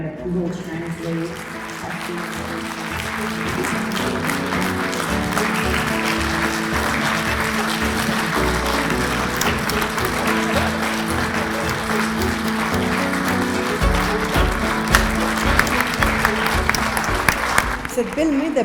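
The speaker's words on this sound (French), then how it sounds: "Cette belle main d'applaudissements-là" Audience applause at a community evening in Notre-Dame-de-Lourdes, a loud, steady, sustained round of clapping from a large crowd, with voices mixed underneath.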